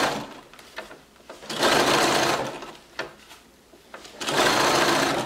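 A sewing machine stitches elastic onto a cloth diaper in close, loud bursts: a shorter run early on, then two sustained runs of stitching separated by brief pauses.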